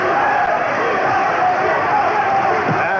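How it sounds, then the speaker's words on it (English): A boxing arena crowd roars and cheers for champion Julio Cesar Chavez late in a bout against Rocky Lockridge, a dense continuous wash of voices, loud and sustained with a commentator talking over it. "the crowd rooting for the champion"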